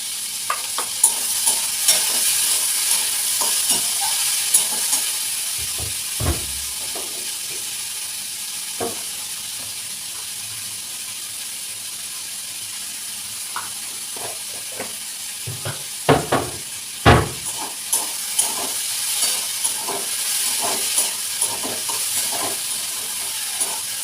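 Steady sizzling and hissing of potatoes frying in a pan, with occasional scraping stirs and clinks of a utensil, no voices.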